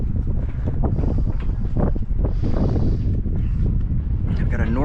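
A steady north wind buffets the microphone while sailing on Grand Traverse Bay, heavy roaring gusts filling the foreground with someone talking over the noise.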